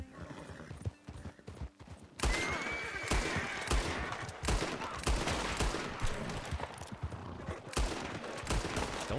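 Gunshots in Red Dead Redemption II crack out in a rapid irregular volley, loud sharp reports over galloping hooves and a horse's whinny, following a quieter opening stretch.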